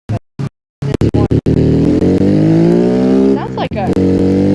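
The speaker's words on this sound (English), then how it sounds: "sounds like a old sports car" The Autobella Piccolina CJD Special car in BeamNG.Drive starts with a few short engine blips, then revs loud and close with rising pitch through the gears, with a brief shift dip near the end.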